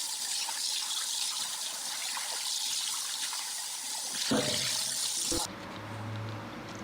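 Running tap water splashes steadily over a pork cutlet being rinsed clean, a close, bright hiss that cuts off abruptly near the end, leaving a faint hum.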